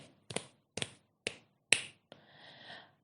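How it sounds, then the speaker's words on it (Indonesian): Four crisp finger snaps land at an even rhythm, close and clear against silence, followed by a soft brushing hiss. "Pola irama kedua diiringi dengan jentikan tangan."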